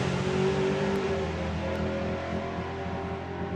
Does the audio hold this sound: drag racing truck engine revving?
yes